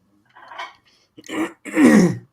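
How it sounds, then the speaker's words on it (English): A person coughs and clears their throat after water went down the wrong pipe: three short bursts, close and fairly loud, each one stronger than the last, with no talking. "I got it down the wrong pipe, and I've been coughing ever since."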